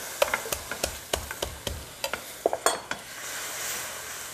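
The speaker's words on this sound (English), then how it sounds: "can you come over and stir this for me" Food being stirred in a pan, a quick irregular series of light utensil scrapes and clinks over a faint sizzle, close by, thinning out toward the end.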